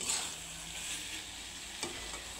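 Spiced cauliflower stalks with garam masala being stirred in a pan, a soft steady sizzle with faint scraping and one brief louder scrape near the end, no voices.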